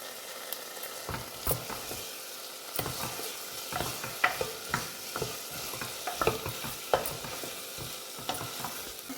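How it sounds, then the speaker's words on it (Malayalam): Green chilies and curry leaves sauté in a hot pan for a jackfruit masala curry: an ongoing sizzle broken by repeated scraping stir strokes at close range, uneven in rhythm, with no speech. "ഇതെല്ലാം കൂടി നന്നായിട്ടൊന്ന് വഴറ്റി കൊടുക്കാം"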